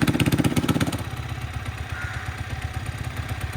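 Yamaha R15 V3 motorcycle exhaust with an oxygen sensor problem, running with a steady, slightly uneven throbbing pulse up close, loud at first and then dropping to a lower idle-like putter.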